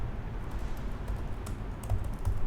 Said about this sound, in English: I'm going to type her name as well,